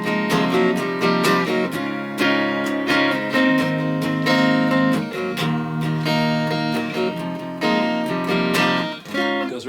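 Electric guitar playing the drop section of a song, dense sustained chords with rapid picked attacks, loud and continuous throughout.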